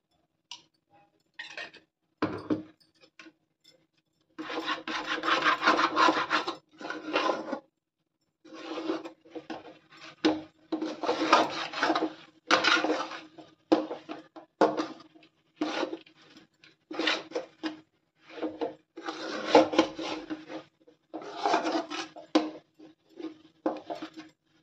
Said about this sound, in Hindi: इसको अच्छे से चला लेंगे ताकि हमारे इसमें एक भी लम्स ना दिखाई दे